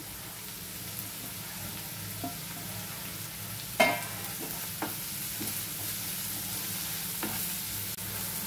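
Chopped tomato goes into onions frying in hot oil, giving a steady sizzle with a sharp burst as it hits the pan, then occasional spatula scrapes and stirring clicks.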